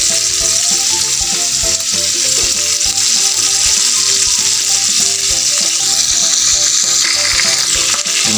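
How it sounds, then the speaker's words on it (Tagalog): Kanduli fish frying in oil in a pan over a homemade wood fire, a loud, steady, dense sizzle with crackling pops running without a break and no voices. "Hintayin na lang po natin siyang maging toasted para baligtarin po natin ang ating pritong kanduli."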